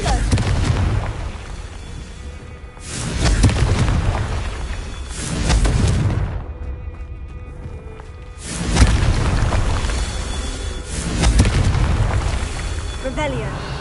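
Confringo blasting spells explode in Hogwarts Legacy, several loud booming blasts in a row with rumbling tails between them, and a voice briefly speaks amid the effects.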